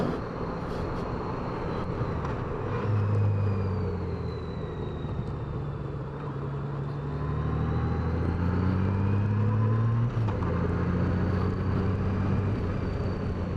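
A Valkyrie motorcycle engine drones steadily while riding through downtown Oklahoma City, with a continuous near rumble that rises and falls gently as the bike cruises at low revs.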